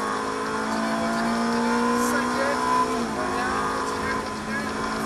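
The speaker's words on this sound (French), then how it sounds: "Continue à accélérer" A Ferrari F430 F1 race car engine roars steadily at high revs on a test circuit at Salon-de-Provence, holding a strained whine that shifts pitch slightly, loud and close with faint voices underneath.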